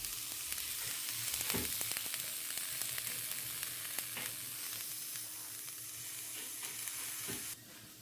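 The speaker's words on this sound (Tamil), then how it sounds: "எப்போதுமே வறுக்கும் போது சிறு தீ வச்சு வறுத்துக்குங்க" Masala for a non-veg kuzhambu gently frying in a pan over a low flame, a soft continuous sizzle with a few sharp clicks of stirring, heard alone without voices.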